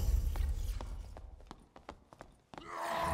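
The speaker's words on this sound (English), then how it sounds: "Oh, hear footsteps." Footsteps of another player in the fantasy dungeon game Dark and Darker, a series of soft, sparse thuds close by over a low ambient rumble, ending in a louder burst of noise.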